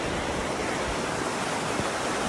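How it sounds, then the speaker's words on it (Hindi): A fast-flowing mountain river in Kumrat rushes in a steady, dense broadband roar, close and continuous with no voices. "पानी काफी तेजी से यहाँ से जा रहा है"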